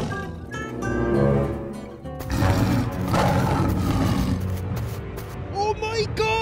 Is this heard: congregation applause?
no